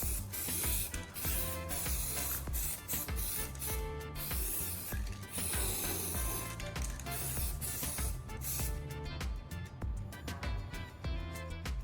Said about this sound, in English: I'm applying several light, even coats of gray spray paint, meticulously matching the original color of the casing.